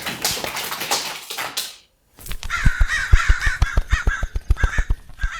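A crow caws in a rapid series of harsh, repeated calls, loud and close, following a burst of other bird noise and a short silence, with no talk.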